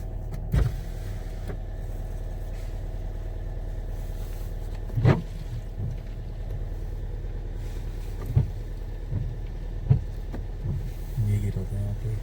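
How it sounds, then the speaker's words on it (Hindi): Car engine running rough just after a slow cold start in snowy Chhitkul, a steady low idle with occasional knocks and thumps, close by. "लेकिन आवाज देखो गाड़ी की कैसी है।"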